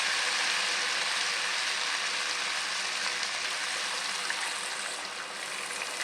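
Water is poured into a pan of cooked-down masala with oil separating, making a continuous rushing hiss and bubbling that holds steady for several seconds, no voices.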